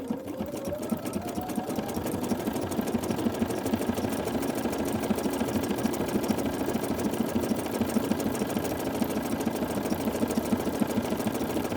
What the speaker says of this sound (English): now I have changed my pattern to or activated the triple stitch, and let's see how that stitches out